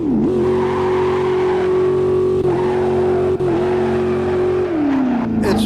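Racing-game car doing a full first-gear launch at 30% turbo, its engine holding a loud, steady high-rev drone for several seconds with brief dips and a falling pitch near the end.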